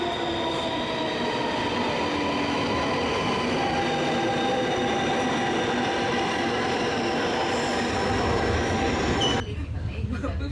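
A train rumbles steadily and loudly close by in Venice, Italy, with rail noise and faint wheel squeal throughout, cutting off sharply near the end.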